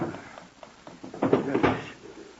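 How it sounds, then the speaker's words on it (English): A wooden drawer slides open in a quiet room, a short rumbling scrape with a few soft knocks as something is lifted out. "I take it out of that drawer"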